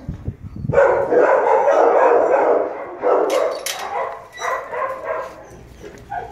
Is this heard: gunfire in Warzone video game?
no